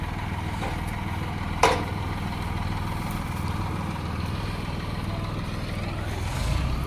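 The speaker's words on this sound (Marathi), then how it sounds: "आता ट्रॅक्टर चालू डायरेक्ट." A tractor engine runs directly at a village jaggery-making site, giving a steady low, faint drone throughout, with a brief knock partway through.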